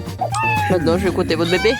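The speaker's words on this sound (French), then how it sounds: "Pourquoi elle miaule?" A cat meows loudly and drawn out, with a wavering, caterwauling tone, right up close. Someone talks in French over it.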